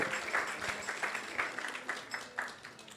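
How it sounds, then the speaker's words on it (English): Sparse, scattered clapping from an audience at a Sunday feast program, with distinct individual claps in a loose rhythm, moderately close and fading slightly over a few seconds. "give them a big round of applause"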